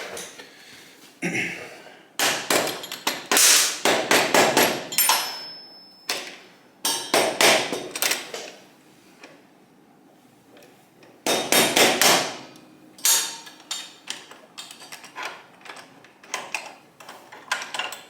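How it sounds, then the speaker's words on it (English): Repeated hammer blows on parts during a workshop restoration of a 1977 Kawasaki KZ1000A motorcycle, landing in loud, sharp bursts of rapid strikes separated by brief pauses. "Get a hammer."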